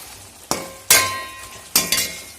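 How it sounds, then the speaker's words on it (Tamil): A spoon stirs drumstick curry in a pot, giving three sharp metallic clinks against the rim with a ringing tail, close by over a low background hiss of cooking. "ஸோ நான் நல்லா கலக்கி விட்டுக்கிறேன்."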